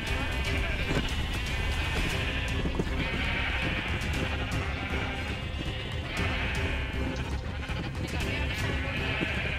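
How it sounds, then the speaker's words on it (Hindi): Sheep bleating in a Minecraft-style survival multiplayer game, repeated wavering bleats spread across the clip over a busy game soundscape, with a voice talking at times underneath. "भाई इन्होंने कम से कम मेरी 3-4 भेड़ मार दिए"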